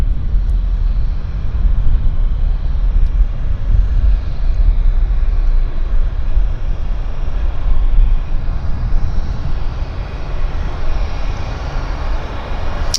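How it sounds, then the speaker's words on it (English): Aircraft taxiing at Vancouver airport produce a continuous broad roar of jet engines at a moderate distance, swelling and easing slightly with no talk over it. "now we've got a buildup of aircraft taxiing out"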